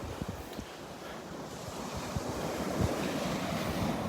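Wind sweeps across the beach at Delnor-Wiggins near Wiggins Pass with surf behind it: a broad, steady rushing noise that builds slightly, with low buffeting gusts hitting the microphone.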